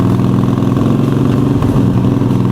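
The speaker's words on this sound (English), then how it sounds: "Rev it up a little bit." Harley-Davidson motorcycle engine running loud and close in second gear, its deep throbbing idle rising into a short rev and then settling back down, with no talk over it.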